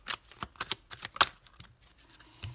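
Tarot cards being shuffled and drawn, a run of quick crisp riffling snaps and slaps at close range, with one brighter flick near the middle and a soft thump at the end, no talk.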